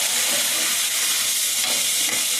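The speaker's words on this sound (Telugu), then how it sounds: "సరే ఇప్పుడు ఇవన్నీ కలిపాలి ఇందులో." Gongura curry is stirred and mixed in a pan over a constant frying sizzle, with a dense hiss and faint scraping under it throughout.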